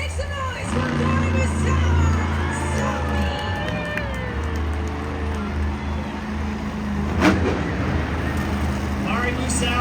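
A stadium crowd roars at a Monster Jam event in SoFi Stadium, a steady broad wash of cheering and noise with an announcer's voice over it.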